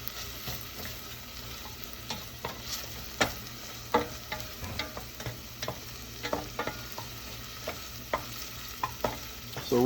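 Onions and rice cook in olive oil in a sauce pot, giving a soft, steady sizzle. Scattered spoon scrapes and taps come at irregular intervals, fairly faint and with no voices.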